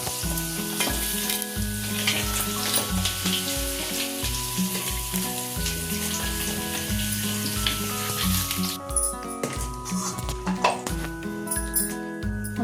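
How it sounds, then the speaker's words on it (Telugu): Paneer pieces deep frying in butter and oil sizzle steadily throughout, with occasional stirring clinks of a utensil against the pan, close and continuous with no talking. "ఇవేమో ఇలా డీప్ ఫ్రై అయిపోవాలన్నమాట"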